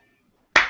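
A single sharp hand clap bursts out close and loud after a near-silent stretch, sounding alone with no talk over it.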